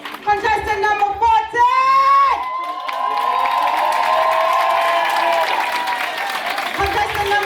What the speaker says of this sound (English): Let's clap and let's cheer for them.